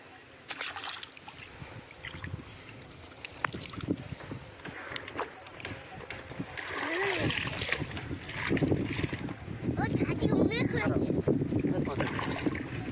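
Small fish caught with a cast net are released back into a home pond, making irregular splashes and water sloshing close by, which grow busier toward the end while people talk over them.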